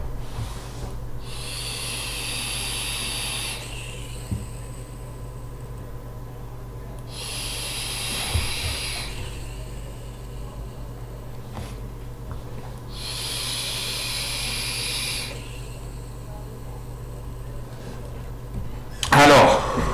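Vapour hiss from an e-cigarette fired at 65 watts on an absinthe-mint e-liquid, with three long breathy inhalation bursts spaced evenly, steady low background hum beneath, and a brief louder click near the end.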